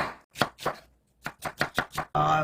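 A knife slices a quarter onion thinly on a cutting board: two crisp cuts, a pause, then a quick run of five rhythmic chopping strokes, close and clear, ending in a brief burst of handling noise.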